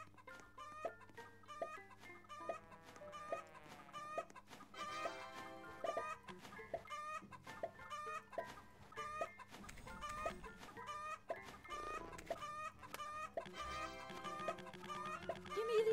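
Chickens in a Roblox egg farm simulator game cluck continuously in dense, repeating bursts, loud and close, with game music and sound effects layered throughout.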